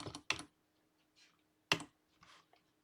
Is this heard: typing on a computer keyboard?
yes